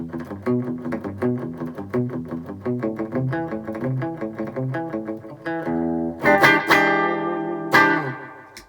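Electric guitar playing a fast picked riff with rhythmic echo repeats trailing each note, then a few loud strummed chords that ring out.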